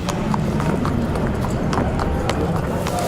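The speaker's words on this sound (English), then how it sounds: "the horses move from the stables to beneath the grandstand" Horses walk from the stables toward a racecourse grandstand, their hooves giving a steady clip-clop over a dense crowd murmur and background noise.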